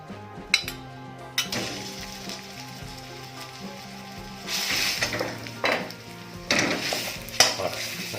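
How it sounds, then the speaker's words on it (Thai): Thai red curry paste frying in hot oil in a pan over low heat, a steady soft sizzle with occasional clinks and scrapes of a utensil stirring against the pan, no talking. "รอให้น้ำมันร้อนแล้วเราก็จะเติมเครื่องแกงลงไปนะครับ"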